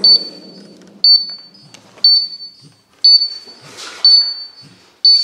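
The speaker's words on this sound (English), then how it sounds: "we can't go any further because we're seeing the oxygen alarm" Oxygen alarm in a mine decline tunnel, its tone starting five times about once a second with each pulse ringing on briefly, while quiet movement and faint low rumble sit beneath.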